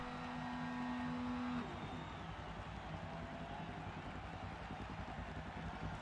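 Race cars, including a 1973 Mazda RX-3, in a Forza video game spec race: a steady engine drone with a held tone that drops away early, then continuous layered car noise at moderate level, no talking.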